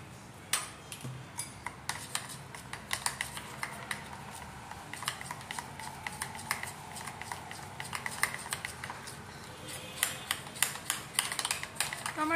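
Jackfruit chop batter with a pinch of baking soda stirred briskly in a bowl, giving a steady run of light clinking and tapping strokes close by, with no talking.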